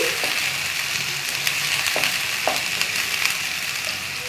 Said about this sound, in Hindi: आप इसमें ऑयल अच्छी तरह गर्म हो जाएगा तो आप इसमें ऐड करेंगे ये प्याज ब्लाइंड जो मैंने ब्लाइंड की थी